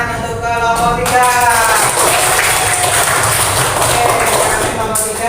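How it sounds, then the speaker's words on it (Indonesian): A classroom of students claps for a presenting group, loud steady applause with a tonal voice or hum audible at the start before the clapping takes over. "beri tepuk tangan untuk kelompok 3."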